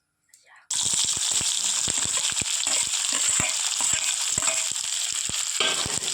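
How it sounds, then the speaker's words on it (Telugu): Mustard seeds, chana dal, onion and green chili frying in hot oil in a pan for a taro curry, a loud steady sizzle with frequent sharp pops and crackles, close and continuous after a brief quiet start. "ఆవాలు శనగపప్పు కాయపప్పు వేసుకుని ఇవి బాగా వేగినాక తర్వాత ఉల్లిపాయ పచ్చిమిర్చి అయితే వేసుకోవాలి"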